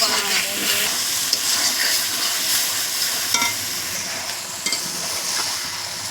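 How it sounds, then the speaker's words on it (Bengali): Biryani masala sautéed and stirred in a pot, a loud steady sizzle with scraping stirs and occasional knocks of the spoon, no clear talking. "এই যে মশলাটা কষানো হচ্ছে এখন।"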